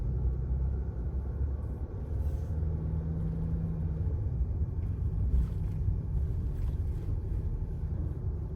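Breezy wind out in the outback bush near the Granites and Frere Range on the Canning Stock Route, a constant low buffeting rumble against the microphone with gusty swells and no voices.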